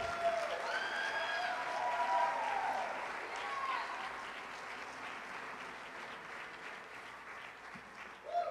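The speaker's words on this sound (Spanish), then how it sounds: "reciba con un fuerte aplauso a un hijo de esta casa" Sustained applause from a church congregation welcoming a young singer, a dense wash of clapping that peaks early, fades gradually, then swells briefly at the end, with faint cheers and voices mixed in.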